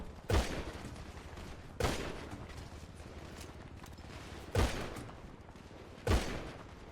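Video game gunfire comes as four loud, isolated shots spaced unevenly over several seconds. Each one cracks sharply and then decays into a short echoing tail above low background noise.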